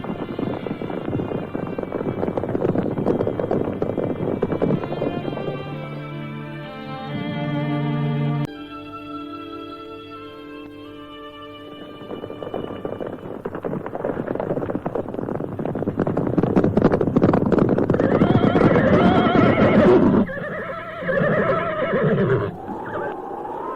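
Horses neigh and whinny in a dramatized Indonesian audio story as riders leave a village, with several loud whinnies followed by hooves clip-clopping, all fairly close and free of talk.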